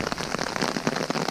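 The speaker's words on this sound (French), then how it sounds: "Je déteste la pluie." Rain pattering steadily on a surface during a hike at over 1000 metres altitude, a dense fast drumming of drops, close and moderately loud.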